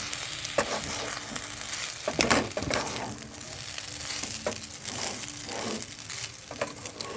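Veg chicken chowmein ingredients lightly fried in a pan, a continuous sizzle with repeated scraping and tossing strokes of a spatula, close and fairly loud, with no voices.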